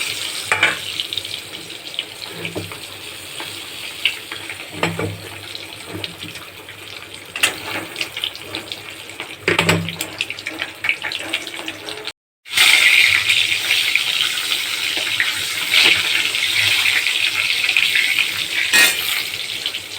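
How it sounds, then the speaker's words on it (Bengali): Eggs frying in ghee in a pan for egg pulao: a steady close sizzle with bursts of louder spattering and stirring scrapes, a brief break, then a brighter, more intense crackle. "ডিমটাকে আমি একটু লাল লাল করে ভেজে নেব।"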